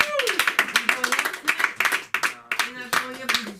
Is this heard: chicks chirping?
no